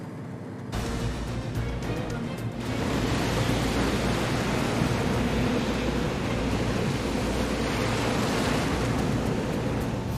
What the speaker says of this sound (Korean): 아마 굵은 파도 한 번씩 들어올 거예요